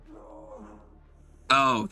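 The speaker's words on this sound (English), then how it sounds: "Oh, that's the sound of getting the bends." Bends warning indicator from the Subnautica Deathrun hardcore mod pack: a loud, bright harmonic tone that cuts in abruptly after faint low murmuring, holds for about half a second, briefly drops, then returns.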